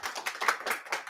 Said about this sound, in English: Let's give applause to Päivi.